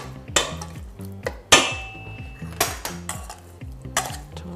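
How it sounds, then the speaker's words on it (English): Raw shrimp are tossed with taco seasoning in a bowl, producing repeated clinks and scrapes of a utensil against the bowl in an irregular rhythm, with several sharper knocks standing out, close and clear with no talk. "Toss the shrimp."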